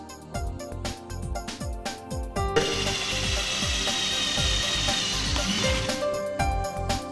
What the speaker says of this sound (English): Mark the exact spot and drill the holes, paying special attention to the right inclination of the holes.